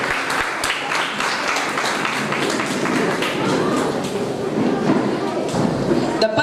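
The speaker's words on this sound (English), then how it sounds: "Let's welcome them with a huge round of applause" Applause from a school audience at a literature festival character parade greets a students' play, a thick stretch of many hands clapping with voices and cheers blended in, holding steady throughout.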